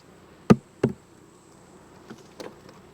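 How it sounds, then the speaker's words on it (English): Honey bees shaken off a hive frame, a low steady buzzing hum beneath two sharp thumps of the frame being knocked, followed by softer taps. "So we'll just shake the bees off."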